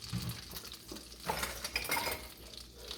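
A breaded pork chop Milanese is set back into a pan off the heat, giving a few metallic clinks and scrapes of utensil against cookware over a faint, low sizzle.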